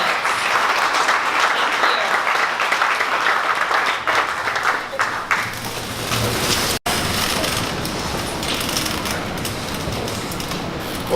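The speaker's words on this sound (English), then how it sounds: "So if everybody could please do one more big round of applause." Loud, sustained applause from a large morning crowd at a Dallas startup meetup, dense clapping filling the whole stretch with a brief dip partway and no voices standing out.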